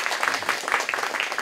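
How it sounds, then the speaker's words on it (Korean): An audience claps in welcome for a speaker being introduced at a church conference, a steady crackle of many hands spread through the short clip. "박수로 맞아주시기 바랍니다."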